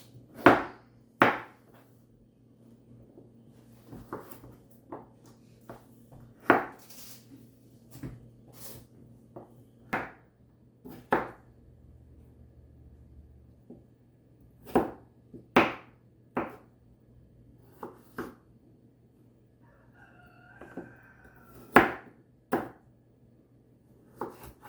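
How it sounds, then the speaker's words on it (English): Knife chopping through carrots on a cutting board, removing the tails and heads before pickling, a series of sharp, separate thunks spaced irregularly and fairly close, with quiet gaps between cuts. "the next thing I'm going to do is just cut the tails and the heads off"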